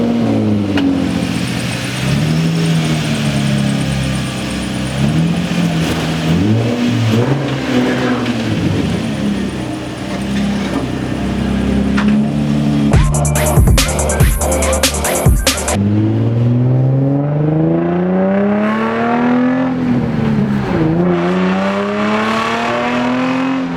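A car pulls out of a driveway with its engine revving up and down through gear changes, loud and close, with a brief burst of rattling noise midway.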